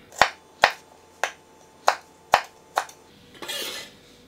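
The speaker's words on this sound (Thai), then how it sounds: "พริกชี้ฟ้าแดงครับอันนี้ก็หั่นแฉลบเฉียงๆไว้ได้เลยครับ" Kitchen knife slicing a red chili diagonally on a cutting board: six crisp, evenly spaced chops, close and distinct, followed by a short rustling scrape as the pieces are moved.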